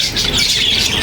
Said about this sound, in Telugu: చూడండి పక్షులు.